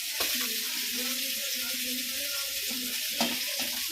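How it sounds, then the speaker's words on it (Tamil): Steady bubbling and hissing of a pot of fish curry simmering on the stove, with soft low background murmurs and occasional light clinks. "கொஞ்சம் குழம்பு கொதிக்குது பாரு, ஏடு கட்டி வருது பாரு"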